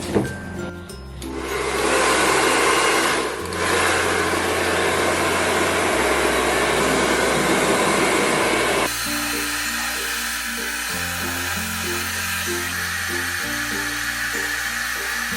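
Hot-air hair dryer blowing steadily and loudly, its rushing whine shifting in pitch as it is moved and adjusted, used to dry a paint design on a surface; no one talks.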